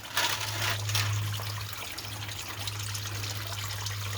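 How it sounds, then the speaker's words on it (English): Transmission fluid pouring out of the 6R80 pan on a Ford F150, a steady close trickling stream under a constant low hum, with a slightly stronger gush at the start. "See, I barely turned that and the fluid started pouring out,"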